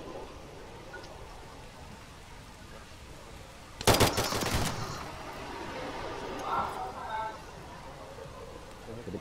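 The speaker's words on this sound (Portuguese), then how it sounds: "pelo som do tiro." A single short burst of rapid gunfire from the video game Zero Hour cracks out midway, loud against a steady background hum, then fades into quieter ambience.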